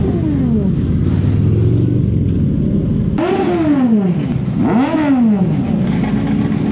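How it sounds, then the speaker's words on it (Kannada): A motorcycle engine at a college auto expo revs repeatedly, rising and falling in pitch over a steady rumble, with a couple of sharp throttle blips close by and loud. "ಇವನ್ ಬೈಕ್ ಕ್ರೇಜಿ ಶೇಕ್ ಆಗುತ್ತೆ ನೋಡಿ."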